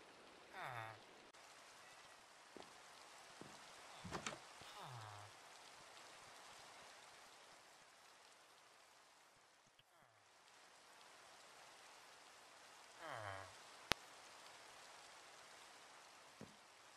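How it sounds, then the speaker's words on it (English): Rain falls at night in the video game Minecraft, a faint continuous patter and hiss, broken by a few soft in-game chirps and a sharp click partway through. "it's night and it's raining"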